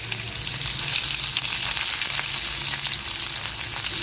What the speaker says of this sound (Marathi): यामध्ये मी आता कांदे घालणार आहे मी हा एक कांदा घातला आहे